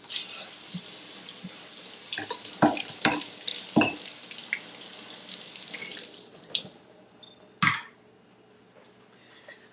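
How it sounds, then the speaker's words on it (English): Strawberries are rinsed under a running kitchen tap, with a steady hiss of flowing water, some splashing, and several brief clatters and knocks at a sink, the water easing off near the end. "All right, so I'm just going to rinse these off."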